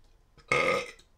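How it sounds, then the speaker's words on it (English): A single loud, close burp rises abruptly and lasts about half a second before trailing off. "I have a tendency to burp loud."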